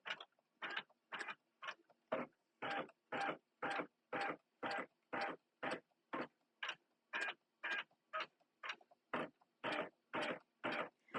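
An embroidery machine stitches a design onto a t-shirt. It makes a steady run of rapid, evenly spaced mechanical stitching pulses, close and continuous, with no talking.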